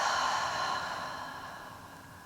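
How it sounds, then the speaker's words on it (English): One slow, deep yoga exhale, a soft airy rush of breath that starts full and gently fades over a couple of seconds, close and quiet with no talking. "Coming to the breath, some fuller inhales, longer exhales."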